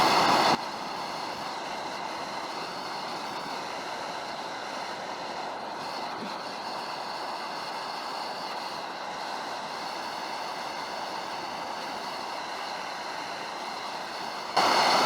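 Water comes to a boil on an MSR Pocket Rocket or BRS 3000T camping stove running at full heat, making a steady, loud, roaring hiss that holds evenly from start to finish.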